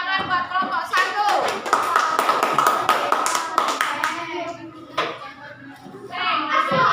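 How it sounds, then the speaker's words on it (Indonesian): Classroom children clap for a group of classmates, a ragged burst of sharp, close hand claps with kids chattering over them, tapering off with a few scattered claps near the end. "Ya, kasih tepuk tangan buat kelompok 1."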